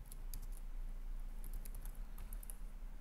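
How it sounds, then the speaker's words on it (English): Light, quick typing on a computer keyboard, irregular bursts of soft key taps over a low steady hum, close and quiet. "Let's just type something out for example's sake as well."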